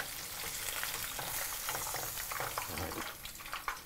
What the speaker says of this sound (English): Scoop some oil and just pour it over the tail.